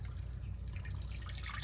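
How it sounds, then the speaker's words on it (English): A can of water poured into a pot roast, a short, soft trickle and splash of liquid against a low steady background hum, close but quiet. "I'm also gonna put a can of water in there."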